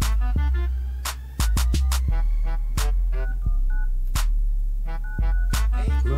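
A home landline phone number is dialed as a quick series of loud, close touch-tone beeps in an irregular rhythm, with no talking.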